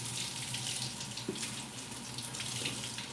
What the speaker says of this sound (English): I'm going to rinse my cutting board and wipe it.